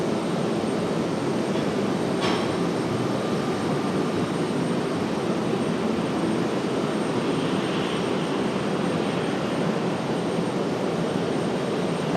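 An Airbus A321 jet taxiing quickly at an airport gives a steady, loud engine roar that holds evenly throughout, with a brief sharp click early on and no voices.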